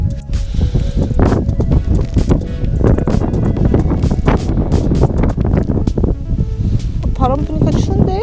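Wind gusts roar and buffet the microphone on a cold winter farm field planted with kohlrabi, a loud continuous rush with rustling over it, as people talk nearby.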